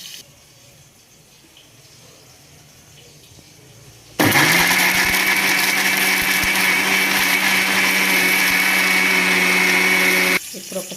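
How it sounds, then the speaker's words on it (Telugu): A mixer grinder starts up partway through and grinds fried onions, tomatoes and ginger with a loud, steady whirring roar for about six seconds, then cuts off abruptly. "వేసేసి దీన్ని గ్రైండ్ పట్టి పక్కన పెట్టేసుకుందాం."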